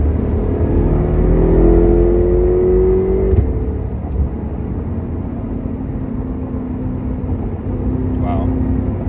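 A BMW M5 F10 tuned with an MHD E30 map downshifts to third gear, heard from inside the cabin as a loud, low engine drone with a brief rev spike near three seconds before settling into a steady hum.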